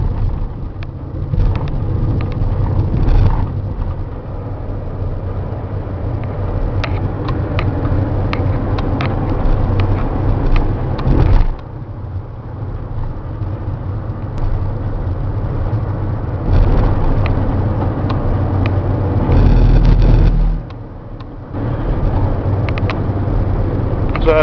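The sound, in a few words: 2008 Mercedes Sprinter diesel cab chassis driving, interior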